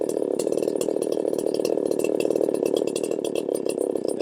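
Small carbureted engine revving at a steady, buzzy high speed while its mixture is leaned out during carburetor tuning, loud and close with a slight rattle.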